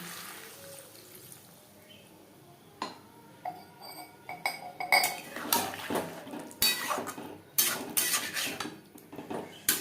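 Sajne data (drumstick) curry being stirred in a pan, with clinks and scrapes of a spoon against the metal that start sparse and grow busier and louder, close by with no talking.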